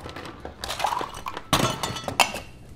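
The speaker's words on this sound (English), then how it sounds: "We're going to add some ice to that." Ice cubes clink and knock into a glass or shaker for an espresso coffee cocktail, a few sharp clattering hits over a short moment, close and fairly quiet.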